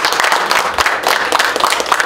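A seated audience claps steadily and warmly after a keynote lecture, with a dense patter of many hands filling the room.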